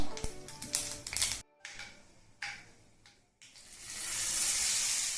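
Curry leaf tempering sizzles as it is poured into a chutney, with a few sharp clinks and taps, then a steady bright hiss that builds toward the end, no talking.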